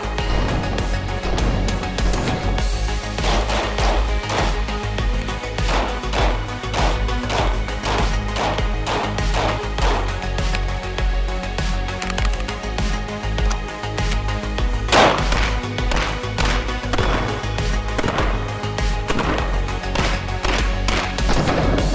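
FN HiPer pistol fired on a shooting range, a series of loud, sharp reports in irregular bursts over a steady background rumble, some shots closer together and others spaced apart.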